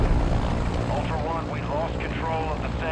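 Airplane flying overhead near a SAM site in Modern Warfare 2, a continuous droning engine roar under overlapping voices and radio chatter.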